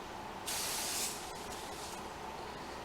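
Super Clean foaming cleaner sprayed from a trigger bottle, one sharp hissing burst about half a second long, then quieter spray hiss and faint clicks.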